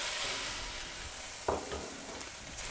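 Chicken pieces and spring onion sizzle and hiss steadily in a hot wok, with a short scraping clatter of stirring partway through, close and continuous with no talk.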